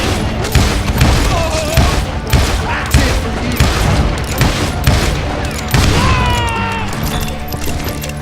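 Volleys of gunshots from hired guns in the Western shooter Call of Juarez: Gunslinger ring out as dense, loud, repeated bursts of shots near a barn, steady throughout with occasional heavier booms and faint voices underneath.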